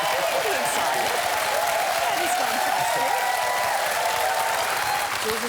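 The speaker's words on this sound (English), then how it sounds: "So, big round of applause." Studio audience applause on a lifestyle show, a sustained, even wash of clapping from a crowd that holds at a steady loud level throughout, with a faint tonal hum running beneath it.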